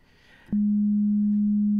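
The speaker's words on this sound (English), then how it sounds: "So that's just a simple sine wave in through oscillator A." A simple sine wave from oscillator A of a Rob Papen Blue2 software synth: a pure, steady low tone that starts abruptly after a brief faint noise and holds evenly at constant loudness until it cuts off.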